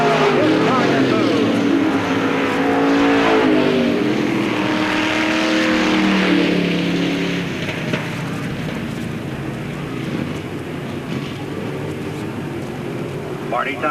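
Race cars roar together around the track at Knox County Raceway, a loud, continuous engine drone that rises and falls as the pack passes, with an announcer talking over it.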